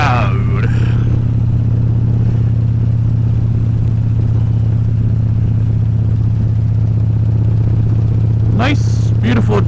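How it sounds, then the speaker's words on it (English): A loud motorcycle engine drones steadily while riding on a chilly day, its low rumble constant and close throughout, with brief wind or movement noise at the start and end. "My bike is a little loud."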